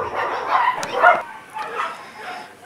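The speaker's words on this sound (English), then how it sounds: "We're having hysterical dogs tonight for some reason, even more so than usual." Several dogs yelp and bark in a rough, excited burst at moderate distance, with overlapping whimpery yips rising and falling over about three seconds.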